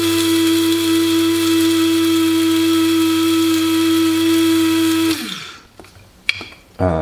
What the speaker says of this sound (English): A couple more grinds.